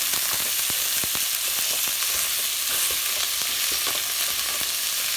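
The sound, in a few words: meat browning and sizzling in a pan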